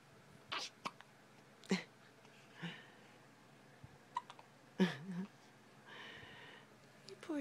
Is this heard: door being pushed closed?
no